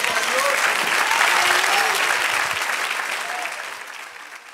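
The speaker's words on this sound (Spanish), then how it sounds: "Denle un aplauso al Señor." A church congregation applauds, a dense and steady wash of many hands clapping together that holds strong before gradually fading toward the end.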